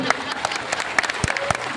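Audience clapping at a Kannada stage comedy show, scattered and uneven bursts of hand claps with a murmur of voices underneath, fairly close and moderately loud.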